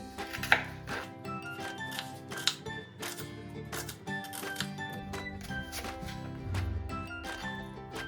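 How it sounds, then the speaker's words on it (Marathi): A knife chops onions and a tomato on a board for a soybean pulao, giving a steady run of close, crisp cuts with a few sharper knocks, while a faint music bed plays underneath. "आता 2 कांदे आणि 1 टोमॅटो चिरून घ्यायचा आहे आपल्याला आधी।"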